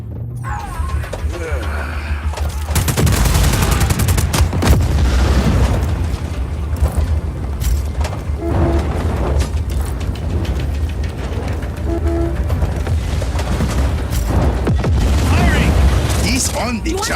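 Gunfire and explosions in Just Cause 4 gameplay, dense booms and sharp bursts piling up loudly over a constant rumble, with a voice speaking among the blasts.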